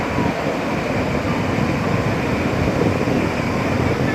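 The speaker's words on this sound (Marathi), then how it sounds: "आवाज करत येणाऱ्या ह्या लाटा" Foaming sea waves break and wash onto Murud beach at Dapoli, a busy tourist shore, making a steady, loud, broadband roar of surf with no clear pauses between waves.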